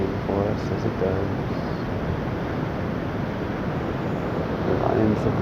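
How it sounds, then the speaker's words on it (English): Ocean waves washing on the shore, a continuous loud broadband roar with wind buffeting the microphone and a faint voice briefly audible. "The ocean singing and dancing and playing for us as it does."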